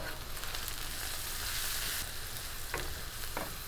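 Turmeric and red chili powder sizzle steadily in hot oil, a loud, continuous close-up hiss with a couple of brief stirring scrapes near the end.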